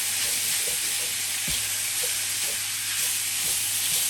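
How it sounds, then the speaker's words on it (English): Ground meat with Italian seasoning browns in a pan for eggplant lasagna, giving a continuous close sizzle with occasional soft knocks and scrapes of stirring. "So your meat gets browned up"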